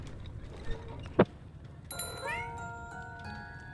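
A cat in a video game meows once, a short rising cry, then bright bell-like chiming tones ring over a quiet background.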